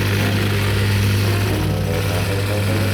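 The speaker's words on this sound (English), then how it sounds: "Let's get this whacker plate started up" A whacker plate compactor engine runs loud and close, a steady droning small-engine thrum with a strong low pulse and no pauses.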